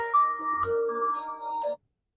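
A short electronic ringtone melody plays clearly, a few tonal notes stepping up and down, then cuts off into silence.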